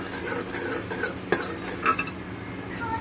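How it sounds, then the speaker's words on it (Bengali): Ice cream milk with ground cashews being stirred in a pot, a spoon scraping steadily with a couple of sharper clinks against the metal, close and moderately loud with no talking. "দিয়ে এটা আবারও নেড়ে নেব ভালো করে।"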